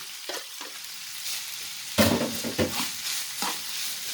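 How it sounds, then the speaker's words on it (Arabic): Minced garlic is stirred into minced meat frying with onion and spices, a soft sizzle under a few scraping spoon strokes that sharpen into a brief louder burst of stirring. "هقلبهم كويس بحيث ان الثوم يختلط مع اللحمه مع البصل مع التوابل اللي احنا حطيناها."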